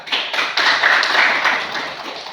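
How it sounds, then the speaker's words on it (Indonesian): Classroom students clapping for their classmates, a bright, close, fairly loud burst of many hands with quick sharp claps, held steady before easing slightly. "tepuk tangan untuk kelompok 1 dan 3"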